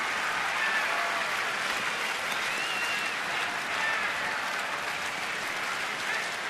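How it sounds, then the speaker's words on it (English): A baseball stadium crowd at a Miami–Washington game cheers and claps in a dense, sustained roar, distant and uniform, with faint whistles rising out of the noise. "Sounds like a college crowd right now."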